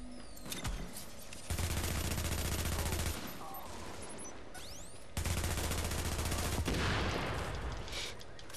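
Sustained LMG machine gun fire in The Division, in two long loud bursts of rapid rattling shots separated by a quieter stretch with scattered distant shots.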